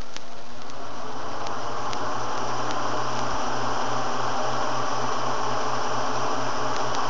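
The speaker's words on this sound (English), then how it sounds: "a noisy motor." Cheap box fan running on high with a noisy motor, a steady mechanical hum and whirring drone with faint rattly ticks, continuous and close for the whole stretch.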